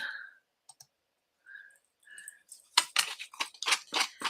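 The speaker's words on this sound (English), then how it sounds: "I'm just going to bring in my scissors and give it a bit more distressing on the edge" Scissors scrape and snip along the edge of a sheet of designer series paper to distress it, a quick run of close, dry rasping cuts after a few quiet tones and clicks.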